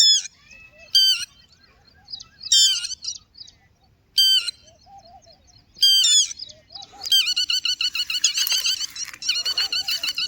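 Red-wattled lapwing (titwi) gives loud, sharp repeated calls in short bursts, then a longer rapid series of piercing notes, clear and close in an otherwise quiet outdoor setting.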